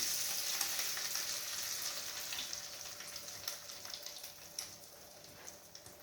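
An egg sizzles and fries steadily in a pan for an omelette, a continuous soft crackle with faint pops throughout and no talking.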